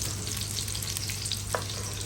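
Beef sautés in a pan for sinigang, giving a steady, close sizzle that holds at an even level throughout, with a faint low hum underneath and no voices.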